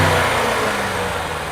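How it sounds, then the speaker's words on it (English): A powerful BMW M5 CS engine revs loudly and close, a sustained roaring growl with no voices. "Rev it up, go on, start it."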